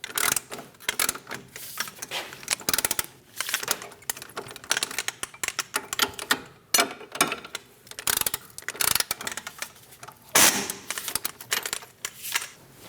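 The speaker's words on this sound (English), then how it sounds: "We're going to snug down our strut bolts." Ratchet wrench snugging down strut bolts on a 2008-2015 Scion xB during front steering knuckle replacement, with rapid irregular clicking bursts and short pauses, close and moderately loud, no talk.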